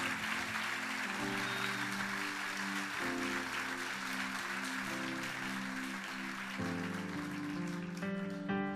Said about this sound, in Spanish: Denle un aplauso fuerte a Jesús.